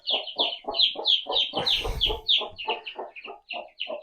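Several chicks peep in a rapid, regular series of high, close chirps, with one brief, lower rustling burst partway through.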